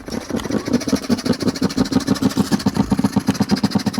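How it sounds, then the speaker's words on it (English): Steady car engine running with a fast, even pulsing throb, close and fairly loud throughout, no voices over it. "Start the engine."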